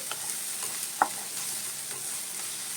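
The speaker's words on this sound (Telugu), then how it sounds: "ఇదిగోండి అల్లం వెల్లుల్లి పేస్ట్ కూడా ఇలా వేయించుకోవాలండి దోరగా" Ginger garlic paste fries in a pan on a medium flame, giving a soft continuous sizzle with a few light stirring scrapes and one sharper clink, close and fairly quiet.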